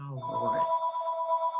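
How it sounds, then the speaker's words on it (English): A house phone rings with a steady electronic warble, pulsing evenly for over a second right after a brief spoken exclamation, clear and fairly close. "Excuse my house phone, I can't turn it off."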